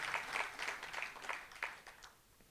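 Audience applause at a conference talk: a short, moderately distant burst of many hands clapping that gradually fades.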